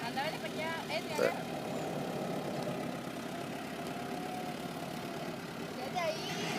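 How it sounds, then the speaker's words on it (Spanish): A tractor engine labors at a swamp, pulling out a stuck vehicle, a steady mid-pitched chugging rumble heard from some distance while people talk nearby over it. "Allá va el tractor que no juega ni un segundo a sacarlo."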